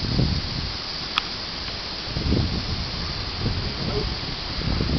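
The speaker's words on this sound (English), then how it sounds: "the winds are gonna be horrible, man. It's gusting this whole front out really fast." Strong gusting wind ahead of an approaching storm front in Pewee Valley, Kentucky, roars and buffets the microphone in uneven surges for several seconds, with one brief click and no talk.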